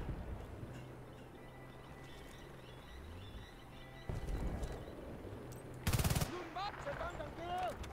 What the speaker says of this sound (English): I think there's a man shooting at me